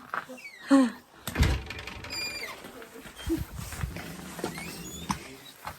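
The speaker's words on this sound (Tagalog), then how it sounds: "Grabe yung pagbagsak ng pinto, ah." A door slams shut in a photo studio in snowy Finland, giving a heavy, close thud with a smaller knock just before it, followed by muffled shuffling and background room noise.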